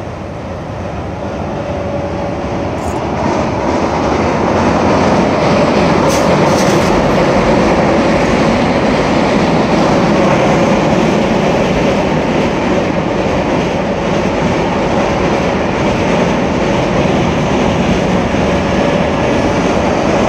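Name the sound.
train passing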